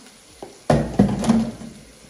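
Chopped zucchini is tossed into a hot pan during home lunch cooking. A soft clatter is followed by a burst of sizzling frying that settles into a steady crackle.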